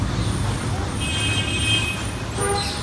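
An auto-rickshaw arrives on a street, heard as a steady, fairly close engine rumble with faint traffic noise behind it.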